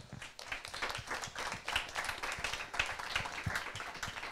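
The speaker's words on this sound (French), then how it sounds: "Je vous propose de les applaudir." Conference audience applauding the speakers, a dense, even patter of many hands clapping at moderate distance, fairly quiet and steady throughout.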